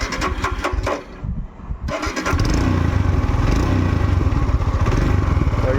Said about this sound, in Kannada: ಈಗ ಈ ಗಾಡಿನ ರನ್ ಮಾಡಿ ನೋಡೋಣ, ಇದ್ರ ಪವರು ಇದ್ರ ಟಾರ್ಕ್ ಯಾವ ಥರ ಇದೆ ಅಂತ.